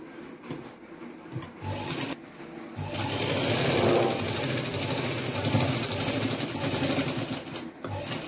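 A sewing machine stitches the folded hem of a mini skirt: a few short bursts first, then a close, continuous rapid mechanical whir that runs steadily for several seconds before stopping briefly.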